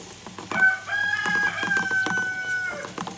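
A rooster crows in a rural Guatemalan setting, one loud, drawn-out cock-a-doodle-doo heard close and clear over faint background clucking and chatter.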